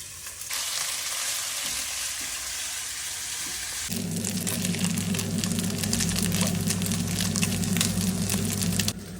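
Chicken pieces sizzle in a hot frying pan for rice noodles with chicken. The steady, loud crackling starts a few seconds in and continues without pause to the end, with no talking over it.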